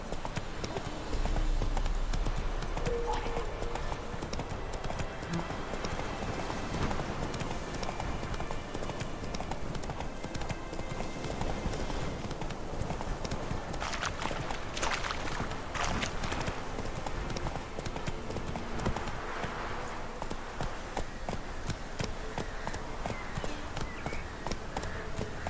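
Horse hooves clip-clop steadily in The Witcher 3 game, a continuous rhythmic trot in the foreground amid game ambience, with occasional talk over it.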